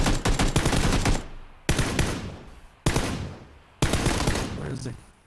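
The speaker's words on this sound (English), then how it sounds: "He's the one taking those suppress shots, I'm pretty sure." Bursts of rapid suppressed gunfire in the video game PUBG on Xbox, four loud clusters of shots with short gaps between them, each ending abruptly.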